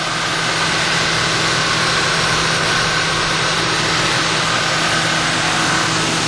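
A freshly serviced, all-original 1998 Ford Mustang V6 idles with a steady, unbroken low hum and a constant whine, with no voices.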